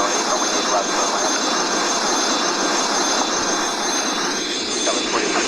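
A CRJ900 regional jet taking off from Philadelphia, heard as a loud, steady broadband engine roar with a constant high whine, sustained throughout without much change.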